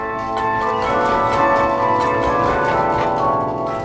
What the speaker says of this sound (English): The bells are beautifully tuned.